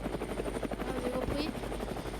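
Helicopter taking off in a video game, a steady close rotor whump and engine drone throughout, with a faint voice underneath.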